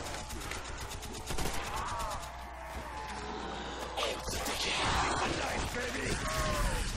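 Rapid gunfire bursts ring out in Call of Duty Nazi Zombies, popping repeatedly at mid-distance amid game effects, while players chatter and call out over the shooting.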